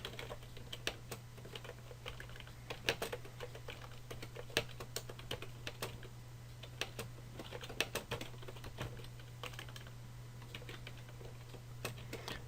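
Fingers typing on a computer keyboard, a quick irregular stream of light key clicks over a steady low electrical hum, close and fairly quiet, without talking.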